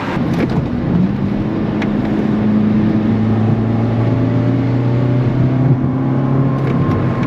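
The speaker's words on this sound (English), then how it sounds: "I swear I hear more induction noise." An 8th-generation Honda Civic Si engine with a K&N drop-in air filter hums steadily from inside the cabin, its pitch slowly rising as it revs, with a throaty intake drone underneath.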